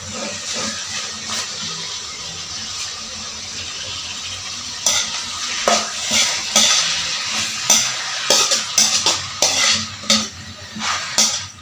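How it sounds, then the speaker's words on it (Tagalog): Pork frying in a pan with onion and garlic, a steady loud sizzle with scraping stirs and clinks of the utensil against the pan growing busier in the second half. "Igisa lang po natin itong ating karne ng bahagya."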